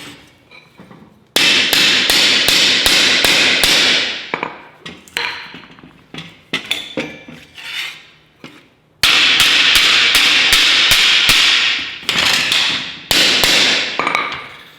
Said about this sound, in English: So basically just hammer them up.